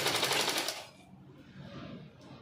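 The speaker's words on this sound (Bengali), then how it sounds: "এই শাড়িগুলোর মাথা এইভাবে ফোল্ড করে সেলাই করতে সুপার সুপার লাগে।" A sewing machine stitches the folded edge of a saree, running in a fast steady burst for about a second before slowing to a quieter mechanical hum, close and without talk.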